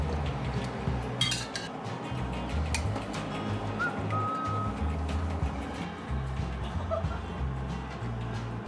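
Chicken pieces go into a slow cooker pot with soft knocks, scrapes and clinks of dishes and utensils, quiet and close, with light background noise and a faint chuckle.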